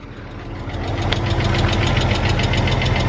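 An idling Porsche Boxster engine runs with a rapid, steady knocking tick riding over its mid-pitched hum, loud and close, the rattle growing slightly stronger after the first second.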